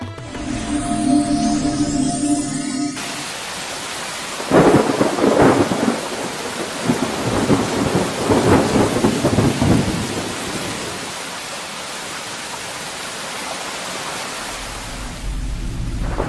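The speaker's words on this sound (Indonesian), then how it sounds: "di luar hujan kamu jadi tidak bisa pergi, Laili." A heavy thunderstorm pours down, with dense steady rain on surfaces and rolling thunder rumbles swelling loudly in the middle before easing back to the constant downpour.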